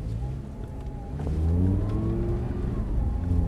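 A car pulls away and accelerates during a driving lesson, its engine note climbing steadily and loudly up close from inside the cabin, with a brief voice underneath.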